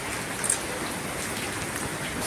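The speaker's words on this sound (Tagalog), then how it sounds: "Hindi na masyadong malakas yung ulan dito." Rain falls steadily outside a house in the Philippines, a constant close hiss of drops on surfaces as a heavy downpour eases, with a faint brief clatter partway through.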